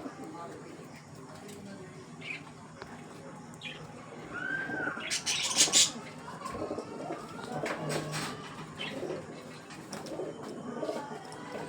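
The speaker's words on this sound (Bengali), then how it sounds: "এই পায়রা দেখুন লুক" Oman Teddy pigeons, an adult pair of male and female, coo softly with low murmuring calls and occasional chirps, while a person talks over them throughout.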